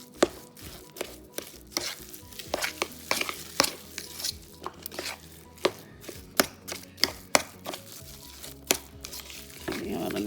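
Homemade sausage meat with fennel mixed by hand or spoon: a series of wet, squelching slaps and scrapes in an irregular rhythm, close and without talk.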